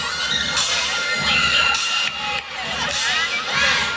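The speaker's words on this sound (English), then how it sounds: "This is definitely a crowd-pleasing performance" A crowd at a women's gymnastics meet between Air Force and Clemson cheers and shouts loudly and continuously, with high excited voices rising and falling throughout.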